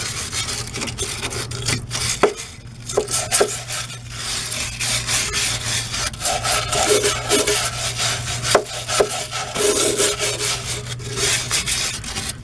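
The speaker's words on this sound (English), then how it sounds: "So I'm going to use a wire brush." A wire brush scrubs loose rust off a truck frame in quick, uneven rasping strokes, with a few sharper scrapes and knocks scattered through a steady low hum.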